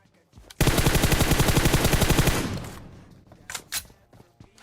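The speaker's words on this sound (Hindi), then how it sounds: "अगर आप यहाँ पे ध्यान से सुनोगे तो यार कोई टावर में खड़े होके गोली" Sustained automatic gunfire from a player in a tower in PUBG Mobile on the Erangel map, a loud rapid burst of about two seconds that decays into ringing, followed by a few scattered shots and noises.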